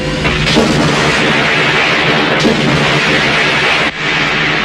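A loud, dense roar of blasts, with heavy booms breaking through at a few points over a constant rumbling wash of noise.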